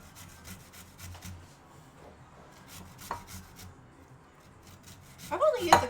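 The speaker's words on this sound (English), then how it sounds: "I've only used the grater a few times." A kitchen grater scrapes repeatedly in short rubbing strokes, faint and close, likely shredding carrot for a carrot cake. Soft background noise runs under it, and a louder burst comes near the end.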